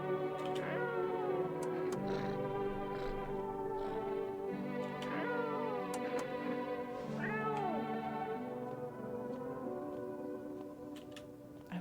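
A cat meows repeatedly in the video game No I'm Not A Human, a series of close, plaintive, rising and falling meows over faint ticking, with no talking.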